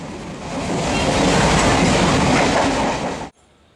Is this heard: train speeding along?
yes